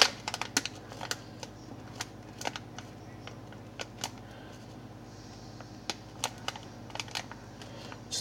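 Pen or marker writing a short note by hand on paper, with scattered quiet scratchy strokes and taps over a low steady room hum, close and faint.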